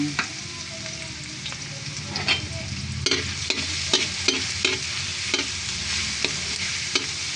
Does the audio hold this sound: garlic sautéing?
yes